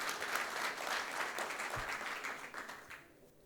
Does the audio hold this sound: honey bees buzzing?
no